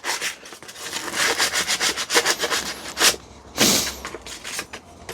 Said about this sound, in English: I'm going to do the safer part and sand it, the bits I couldn't reach.